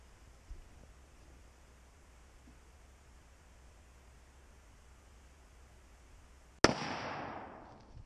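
A single loud, sharp rifle shot fired from a lead sled cracks out after a long stretch of quiet outdoor hiss and trails off in a fading echo, with no talking.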